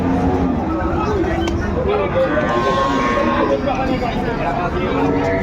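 Sahiwal bulls lowing amid a busy cattle market in Dinajpur, dense crowd chatter and people talking nearby over a constant loud bustle.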